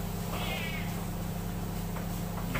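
A house cat meows once, fairly faint and drawn out, over a steady indoor background hum with no talking.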